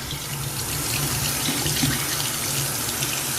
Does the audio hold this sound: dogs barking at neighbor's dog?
no